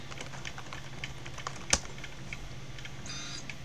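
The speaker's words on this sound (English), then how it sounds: "Now I just typed in something random, but let's type in" Soft, quick computer keyboard typing of a search query, light irregular key taps with one sharper click, close and quiet over a steady low room hum.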